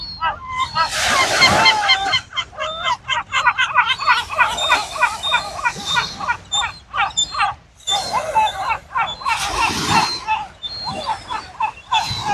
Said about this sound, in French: la façon dont les gabions, donc les goélands en provençal, ont de renverser la tête pour crier